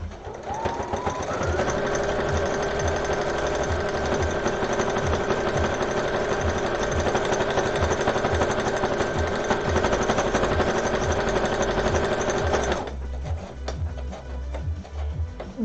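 A sewing machine with a buttonhole attachment runs in one long, loud, steady mechanical chatter with a rising whine, then stops abruptly, leaving softer handling noise.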